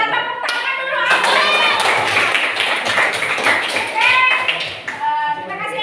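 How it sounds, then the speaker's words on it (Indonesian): Schoolchildren in a classroom clap together for a classmate, a loose burst of hand claps running for several seconds amid chatter and voices. "Kita tepuk tangan dulu."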